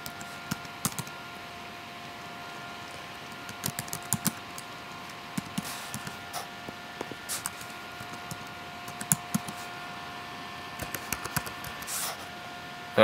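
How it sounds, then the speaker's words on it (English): A username and password are typed on a computer keyboard as a sign-in, a run of light, close key clicks at an irregular pace over a low steady background hum. "we are going to type these in to sign into to MyScouting"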